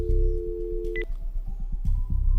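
Landline phone dialing a mobile number: a steady dial tone cuts off after about a second, followed by a brief pair of DTMF keypad beeps and then faint line tones, with low rumbling noise throughout.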